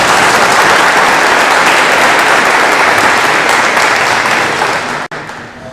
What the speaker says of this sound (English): So please give a round of applause to the school.